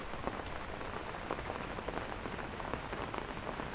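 Steady rain falls during a morning hike in Hong Kong, a dense continuous patter with scattered brief drop hits, fairly close and even in level throughout, with no voices.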